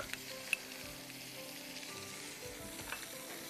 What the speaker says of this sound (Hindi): प्याज और चॉप किया हुआ 3-4 जवे लहसुन के आप मीनवाइल यहाँ सौटे करिए